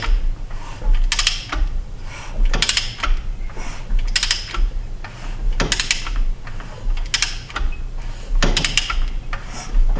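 Slow, repeating mechanical clicks and ratcheting as a neglected 1982 Chevy Silverado C10 engine is turned over by hand, rockers moving, with metallic clacks recurring roughly every one to two seconds.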